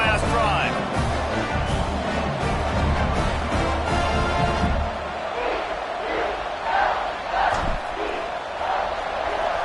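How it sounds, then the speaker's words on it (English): Stadium crowd in a college football video game roars loudly and continuously, with shouts rising from the mass of noise and a commentator talking over it. "this crowd is feeling themselves after that last drive"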